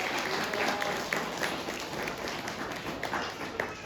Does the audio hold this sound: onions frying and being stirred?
no